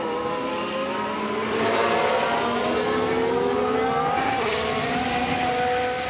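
A Formula racing car engine in F1 Manager 2023 screams steadily at high revs, its pitch rising and sweeping as the car passes, loud and continuous with no talk.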